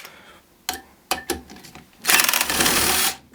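A Stal cordless screwdriver whirs to unscrew its own chuck, with a few short clicks and blips before a sustained loud motor run of about a second, close up.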